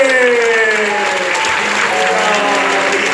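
A church congregation applauds its teachers with a dense, continuous wash of clapping, loud and close, over a sustained tonal backdrop.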